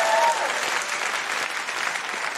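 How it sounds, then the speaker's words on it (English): A live audience in Perth, Australia breaks into a brief, full round of applause at a comedy podcast taping, steady crowd clapping throughout. "Big round of applause"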